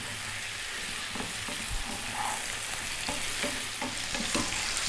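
Fresh chilies sizzle and fry in a pan of sweet potato curry, a steady close crackling hiss with occasional stirring scrapes throughout.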